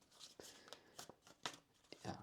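Tarot cards are shuffled close by in quick, irregular riffling bursts and soft slaps, fairly quiet, with several short flurries in a row.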